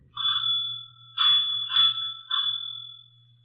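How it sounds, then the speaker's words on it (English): An electric doorbell rings in a vintage Nero Wolfe radio drama, several bright two-tone chimes in an uneven pattern, each ringing on briefly over a low steady hum. "you had better ring the doorbell"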